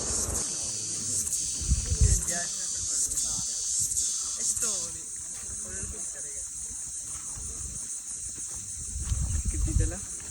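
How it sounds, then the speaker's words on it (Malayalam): Crickets keep up a dense, continuous high-pitched drone in the Nedumkayam rainforest near Nilambur, with faint, brief chirps of small birds scattered through the first half. "ചീവീട്, അതേപോലെ തന്നെ ചെറിയ ചെറിയ കിളികളുടെയൊക്കെ ശബ്ദം കേട്ട് നോക്കിട്ടോ."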